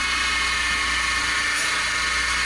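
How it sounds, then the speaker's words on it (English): A 1/8 inch two-flute end mill cuts into Delrin with a steady, high, whining hiss that holds constant throughout, loud and close with no talking. "I got an 1/8 inch end mill on there, 2 flute end mill, and we got to go down to the Delrin."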